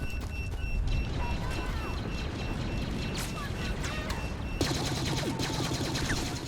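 Rapid blaster fire in a Star Wars Battlefront beta match, dense repeated shots over steady battle noise, with a brief louder burst near the end.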